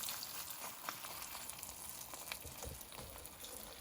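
A flour tortilla cooks in a hot pan for a breakfast quesadilla, giving off a faint, close, continuous sizzle with small intermittent pops.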